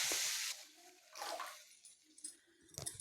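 A cup of water poured into a kadai to make syrup for moong laddu, with splashing bursts of pouring and sloshing that start, stop and return in uneven spurts, close by and with no speech.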